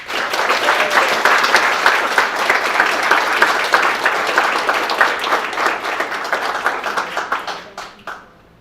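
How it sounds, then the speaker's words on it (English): Audience applause at a Joshua ISD school board of trustees meeting: sustained, dense clapping from a room full of people that holds steady for several seconds, then thins to a few scattered claps and fades out. "Let's give him a big round of applause."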